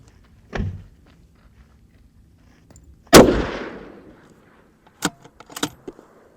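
A single loud M1A rifle gunshot with a long decaying report, fired at a 10-inch steel target at 350, followed by faint metallic clicks of the action; no talk.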